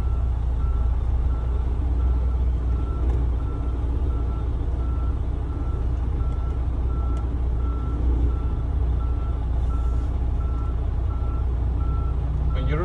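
A truck backing up during a brake test inspection sounds steady reversing beeps over a constant low diesel engine rumble, close by, with no talking.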